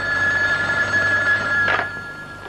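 An old telephone bell rings loudly and steadily up close in a 1966 Iranian film, a continuous metallic trill that fades slightly near the end.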